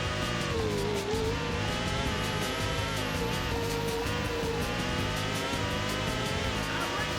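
A Formula One car engine from the F1 World Grand Prix video game at the San Marino Grand Prix, a constant loud high-pitched whine with shifting revs and gear changes, droning without a break throughout.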